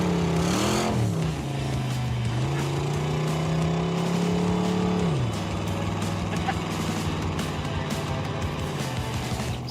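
A 1966 Corvette cruises along a coastal road near Monterey, its engine droning steadily with a few shifts in pitch as it changes gear, loud and close with road and wind noise throughout.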